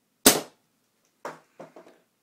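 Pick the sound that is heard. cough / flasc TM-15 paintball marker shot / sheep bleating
flasc TM-15 paintball marker shot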